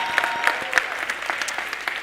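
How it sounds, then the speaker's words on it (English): A keynote audience at a business travel conference gives a brief, light round of applause for Dennis Rodman, scattered crisp claps heard from a distance and fairly quiet. "Let's give a round of applause for Dennis Rodman over here."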